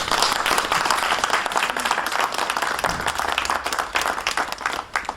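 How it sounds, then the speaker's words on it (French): Applause at a memorial ceremony for laying stolpersteine in Loudun, an outdoor crowd clapping steadily for several seconds, fairly close and uneven in intensity. "Je crois que vous pouvez l'applaudir."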